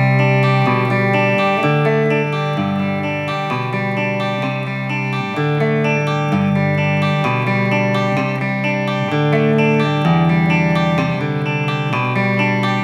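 Arpeggiated acoustic guitar pattern from a French song, a steady ringing run of picked notes over shifting chords, played alone with no talk.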